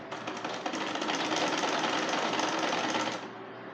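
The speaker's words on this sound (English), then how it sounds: "So I will sew it now." A sewing machine stitches pleats into a lace skirt, its steady motor whir running continuously and loud for about three seconds before stopping abruptly, with no talking.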